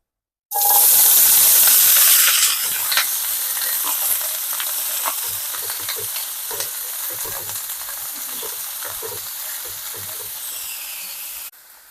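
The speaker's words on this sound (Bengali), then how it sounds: "এবার আমরা তেলের মধ্যে এটাকে দিয়ে দেব" Chopped, washed water lily stems dropped into hot oil burst into a loud sudden sizzle that settles into a steady, crackling frying hiss, close and continuous.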